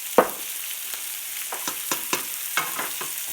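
Mushrooms and onions fry in a pan, a continuous soft sizzle punctuated by scraping and stirring clicks as the food is moved around, close and without talk.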